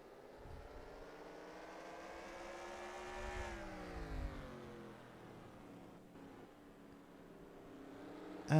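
NASCAR Racing 2003 stock cars lapping Martinsville in a simulated race: a steady, layered engine drone whose pitch rises and dips as the cars slow and accelerate, continuous and fairly even, with no talking.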